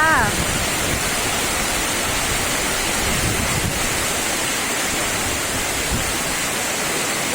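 Steady broadband roar of strong wind and rain, continuous and loud throughout, with gusty wind buffeting the microphone and a brief voice at the very start.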